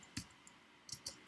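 Typing on a computer keyboard: a few quiet, separate key clicks with short gaps between them, close by and alone.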